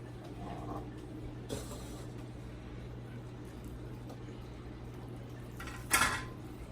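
Chicken bacon ranch casserole ingredients with bacon are stirred in a bowl, giving soft scraping and clinks of a utensil against dishware, with a louder clatter near the end over a steady low hum.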